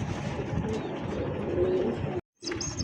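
A pair of tiger-coloured Indian highflyer Giribaz pigeons coo in a low, steady murmur close by, continuing for a couple of seconds before a brief silent gap, then the cooing resumes.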